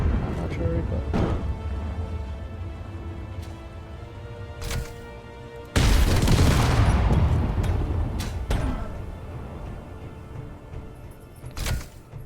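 Weapons fire in the Space Engineers game, shown off after a warfare update: sharp repeated shots, the loudest burst a dense blast near the middle, with other bangs scattered through the clip over background tones.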